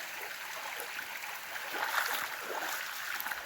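A small stream runs across a hiking trail at a water crossing, giving a steady, close rush and trickle of flowing water with no one talking.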